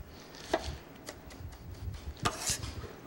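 A knife slices an onion at an angle with sparse, crisp cuts landing on a board, close and fairly quiet, spaced irregularly over a faint background.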